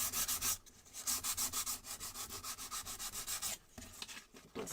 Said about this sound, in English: All right, so that's sanding one side.